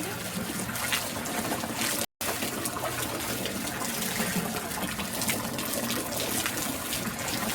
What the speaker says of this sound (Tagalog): itong sa free flowing napakalinis na tubig